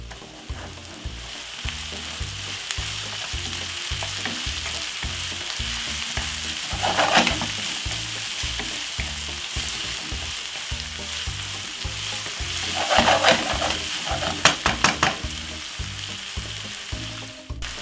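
Mixed vegetables fry in a pot with a steady, close sizzle throughout, broken by louder bursts of crackling and stirring around the middle and near the end.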